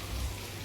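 Rain falls steadily in a soft, even hiss, faint and continuous over a low background.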